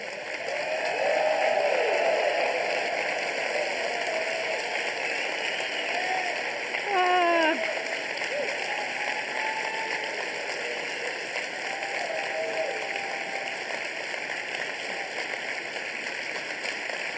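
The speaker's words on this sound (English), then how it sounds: "let's do that standing ovation." An audience gives a standing ovation, with sustained applause spreading through the room at a steady, fairly loud level, while a voice talks over the clapping in places.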